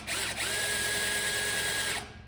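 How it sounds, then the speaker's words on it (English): A power drill fitted with a half-inch bit bores into metal, a loud, steady, high whine running almost the whole time before cutting off at the end, with no talking. "I'm going to use a 1/2-inch drill bit,"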